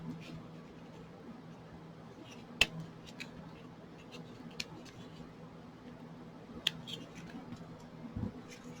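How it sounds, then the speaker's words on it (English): Scissors snipping egg carton cups into flowers, a few sparse, faint clicks and cuts spaced seconds apart over quiet background. "So you cut your flowers,"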